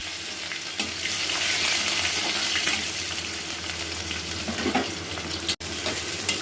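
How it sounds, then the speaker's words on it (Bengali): Dried chilli, garam masala and cumin seeds frying in hot oil for a tempering, giving a steady close sizzle with faint stirring clatter throughout. "শুকনো লঙ্কা, গরম মশলা আর জিরে ফোড়ন দিয়ে নিয়েছি।"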